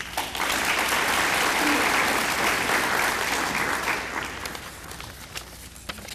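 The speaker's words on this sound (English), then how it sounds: "let's give the council another round of applause" Sustained applause from a large crowd at a senior town hall meeting, loud and steady for several seconds before thinning out toward the end.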